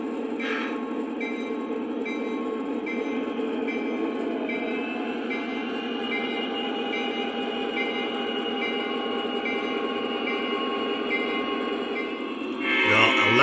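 A Lionel Amtrak F40PH model locomotive runs in reverse, giving a steady, even rolling hum of motor and wheels on track with a faint whistle-like tone, close and continuous, swelling louder in the final moments.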